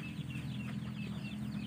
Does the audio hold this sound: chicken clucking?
yes